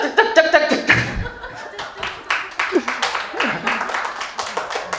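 An audience claps in patterned rhythms during a humanities lecture, producing sharp repeated hand claps that mix with laughter and chatter throughout.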